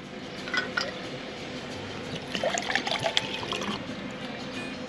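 Water poured from a bottle into a cup outdoors by the water in Vlochos, Greece, with short trickling splashes and light clinks of dishes, fairly close and soft against a quiet background.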